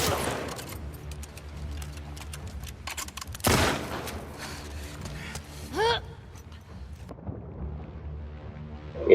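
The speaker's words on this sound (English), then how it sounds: "You can feel it when you fire a weapon in this game." Gunfire rings out in The Last of Us Part 2 game, scattered bursts of shots with one heavy, punchy blast midway, heard against a noisy combat background along with gasps and grunts.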